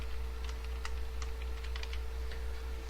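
Typing on a computer keyboard, a light irregular patter of key clicks at moderate distance over a steady low electrical hum, with no talking.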